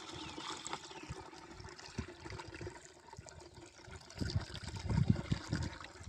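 Water pours into a pesticide sprayer pump tank while mixing an herbicide spray for an onion crop, a steady close splashing rush that swells louder toward the end.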